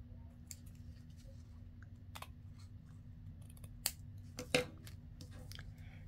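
Scissors trim paper for a handmade 12x12 journal: a few quiet, sparse snips and clicks in a near-silent room, with two sharper cuts close together near the end.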